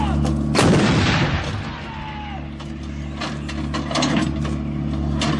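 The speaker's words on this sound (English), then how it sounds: "The gun will now fire 3 rounds in area diamond." An artillery gun with an automatic loading system fires in burst mode, a loud boom followed by clanking and rattling loader machinery, then further mechanical clatter over a steady low rumble.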